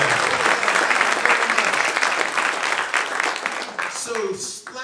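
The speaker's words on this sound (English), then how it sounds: "Give yourselves a clap" Theatre audience at a Christmas charity show applauding steadily, a dense wash of clapping that stays loud for about four seconds before easing off as a voice starts to speak.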